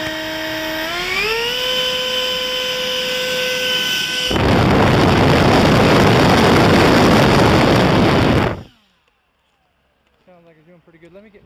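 An RC F-16 model jet's electric motor spins up from a whine rising in pitch, then bursts into a loud, dense roaring rush for several seconds before cutting off abruptly to near silence, with faint voices after.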